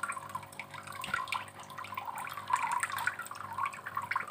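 Water from a hose pours steadily into a grow-out pond for artemia, a continuous close trickling and splashing with small drip-like flickers throughout and no talking.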